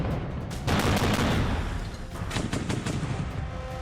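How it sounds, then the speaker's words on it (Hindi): Russian army gunfire and shelling aimed at Ukrainian positions, a dense, sustained roar of bursts with a heavier swell early on, loud and continuous throughout with no talk. "यूक्रेनी पोजीशंस पर रूसी सेना आग बरसा रही है।"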